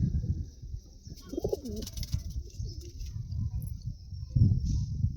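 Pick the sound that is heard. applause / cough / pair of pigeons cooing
pair of pigeons cooing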